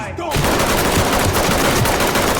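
Rapid automatic gunfire in the tactical shooter Ready or Not, a loud continuous burst of dense shots filling the whole clip.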